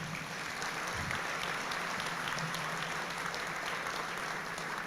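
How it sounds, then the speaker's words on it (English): A crowd at a guide dog and service dog class graduation applauds the Reverend, dense steady clapping filling the space at even loudness throughout. "How about a big round of applause for the Reverend?"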